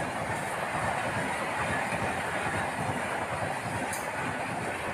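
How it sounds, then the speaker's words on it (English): A North East Express passenger train rolls into Buxar railway station in Bihar with a steady, loud rumble and rhythmic wheel clatter that continues evenly throughout, with no talking. "the train reached Buxar railway station in Bihar"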